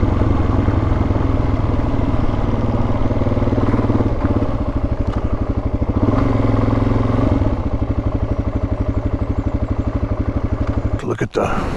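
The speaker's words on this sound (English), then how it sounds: "It's a certain frequency where it's just that skid plate making noise" Dirt motorcycle with a loose skid plate rattling at a certain engine frequency, a steady loud engine drone carrying a buzzing metallic clatter throughout, ending in a few sharp knocks.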